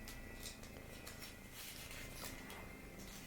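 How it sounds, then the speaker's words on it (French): A small cat purring steadily up close, a continuous soft rumbling with faint rustling crackles of dry autumn leaves over it. "et ronron du petit chat"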